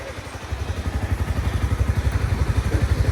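A Japanese motorcycle engine, bought secondhand as a step up in engine size from a Yamaha Nmax 155 scooter, runs nearby with a loud, fast, even throbbing pulse that quickens slightly.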